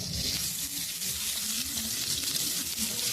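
Panch phoron whole spices sizzling steadily in hot frying oil, a dense close crackle and hiss continuing without a break.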